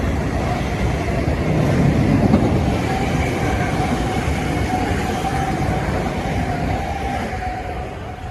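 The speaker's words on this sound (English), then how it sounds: "It's an express train." Through a Metro-North station platform at Port Chester, an express train rushes past in a steady broad rumble and rattle, swelling slightly around the middle and holding loud throughout, with no voices.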